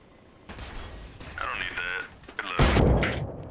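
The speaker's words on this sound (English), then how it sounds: "Someone's sniping from a cliff." Sniper fire from a cliff in Arma Reforger sounds as a few sharp cracks, followed by a heavier, louder rumbling blast near the end, with speech-like game chatter mixed through the battlefield noise.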